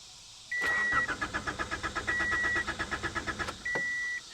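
A 1985 Honda Accord with an empty fuel tank cranks over in a quick rhythmic churn lasting a few seconds, with no catch, bracketed by steady electronic chime tones; close and clear, no talking.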